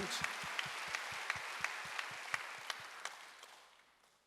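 Church congregation applauding during a Korean worship service, a brief burst of regular hand claps over room ambience that fades away near the end.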